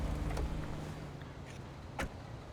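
Car door and vehicle sounds as a character climbs out of a car in GTA V Enhanced Edition on PS5, a low engine hum with a brief door clunk and thud near the end.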